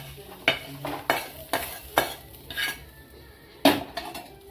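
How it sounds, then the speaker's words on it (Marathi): Garlic, ginger and coconut sautéed in a pan for a village-style egg curry, with a spoon knocking and scraping the pan in sharp strokes about every half second over a soft sizzle, close and loud. "त्याच्यात लसूण आणि आलं टाकायचं आलं चांगलं परतून घ्यायचं"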